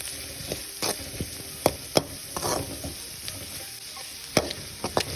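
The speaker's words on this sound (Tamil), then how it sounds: "இது டெம்பரிங்க்கு எடுத்திருக்கேன்" Chana dal, urad dal, hing, curry leaves and a red chilli crackle in hot oil for tempering, a steady sizzle broken by sharp pops and a few spoon clinks against the pan.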